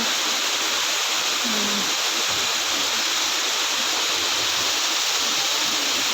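Aso Falls in Oringao, Kabankalan City, rushing as a dense, steady roar of falling water, loud and close without a break.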